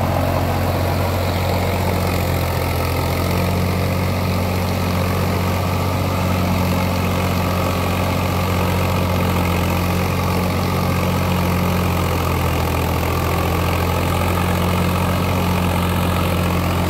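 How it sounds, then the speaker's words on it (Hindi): A Swaraj 855 tractor driving a Shaktiman rotavator runs steadily at rated RPM, its loud, even diesel drone and mechanical churning holding constant and close throughout, with no speech over it. "सत्रह अठारह की रेस पे जो है ट्रैक्टर चल रहा है रेटेड आरपीएम पे"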